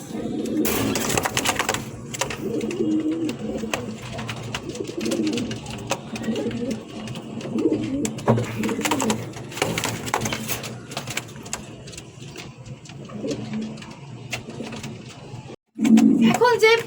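King pigeons coo in low, repeated throaty bursts at a seller's pen, nearby and steady, mostly beneath someone talking almost throughout.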